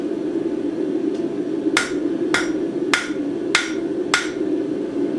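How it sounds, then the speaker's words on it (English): Hot steel hammered on the edge of an anvil while forging a taper: five sharp ringing metallic strikes in an even rhythm over a steady humming forge drone, close and loud, no talk. "hammer the end at the edge of the anvil at an angle"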